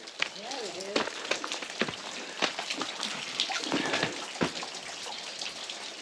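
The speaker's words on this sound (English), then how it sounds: "The water coming down off of it like a little waterfall." Water spills off a rock outcropping like a small waterfall, a steady close splashing wash running throughout while people talk over it.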